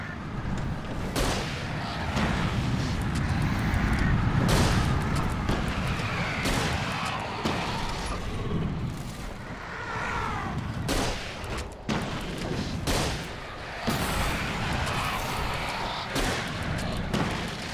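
Flare gun shots boom repeatedly in the Alan Wake video game over a dense, loud battle soundscape, with sharp blasts landing every second or two amid constant rumbling noise.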